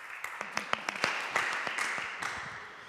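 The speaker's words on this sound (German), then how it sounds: "Und auch für ihn ein kleiner Applaus" A small audience claps at an architecture lecture on circular building, scattered distinct claps building into steady, moderate applause that tapers off, with no talking.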